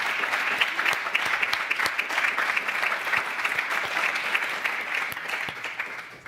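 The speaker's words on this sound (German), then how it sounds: "Ich hoffe, Yannis hat es noch gehört, den Applaus" An audience at a sustainability-themed association event bursts into sustained, even applause, a close and continuous patter of many hands clapping for the full stretch.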